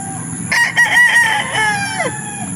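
A Popeye grey gamefowl rooster crows once on a game farm, a loud, close, drawn-out call of about two seconds with a falling end, heard over faint background noise.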